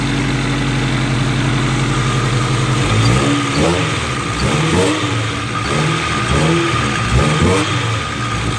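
Up close, an Acura Integra engine, after a fuel injector problem, idles at first, then runs with a rhythmic, pulsing rev pattern, loud and continuous with no talk.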